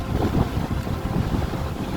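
Wind buffets the microphone along the path to Mont Saint-Michel, a loud, low, gusting rumble that swells and dips steadily with no voices.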